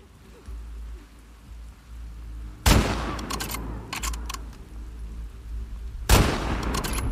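Two loud, sharp gunshots from the video game The Last of Us Part 2 crack out several seconds apart over a steady rain-like ambience, each followed by a brief decaying tail.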